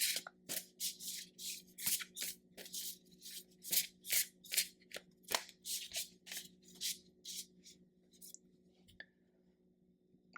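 Tarot cards are shuffled and drawn by hand in a rapid series of close, crisp riffling bursts, quiet and alone, slowing and fading near the end.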